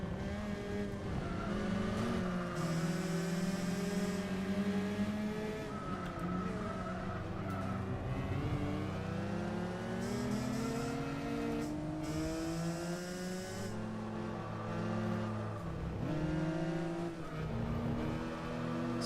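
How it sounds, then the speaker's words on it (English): Tires squealing and engine droning in Gran Turismo 4 under nitrous, a continuous layered roar with rising and falling pitch and sustained skid whine, steady and moderately loud throughout. "A little bit of tire noise on the nitrous."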